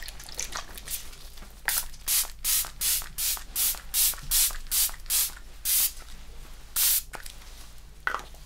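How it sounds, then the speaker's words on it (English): A hydrating facial mist is sprayed onto the face in about a dozen short, evenly spaced pumps, close and crisp, then a pause before one more spray and a faint trailing spritz, with no talking. "I'm just going to apply hydrating mist"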